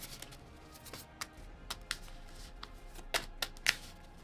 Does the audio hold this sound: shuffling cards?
yes